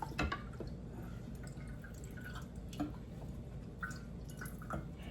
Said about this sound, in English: our tea is done steeping, so I'm just going to pull out those tea bags